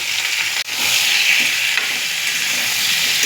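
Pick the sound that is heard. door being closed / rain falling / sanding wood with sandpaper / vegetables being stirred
vegetables being stirred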